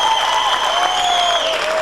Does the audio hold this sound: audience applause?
yes